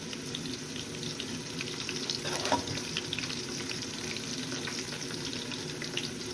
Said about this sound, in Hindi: तो ये प्याज सही तरीके से लाल करना है।